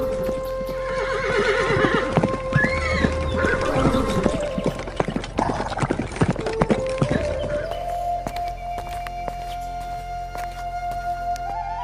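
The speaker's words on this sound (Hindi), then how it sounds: "तभी अचानक दूर से घोड़े के पैरों की आवाज आती है।" Horse hooves clattering toward a farmer's home in a village folk tale, a horse neighing loudly among dense clip-clop beats that fade into a steady tone.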